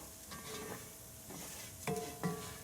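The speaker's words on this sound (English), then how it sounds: "we're just stirring that up just a little bit more" Paella rice with butter and bacon stirred in a pan, with a faint sizzle under soft scrapes and a couple of sharper utensil clinks against the pan near the end.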